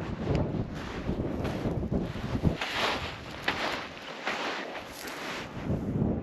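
Strong wind buffets the microphone in a continuous roar with gusty rises and falls at a clifftop in Monte León National Park, and no voices are heard.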